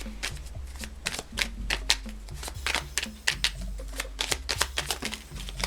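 Advice cards for a card reading being shuffled close up: a dense, rapid run of crisp riffling flicks and soft taps that continues without a break, with no voices.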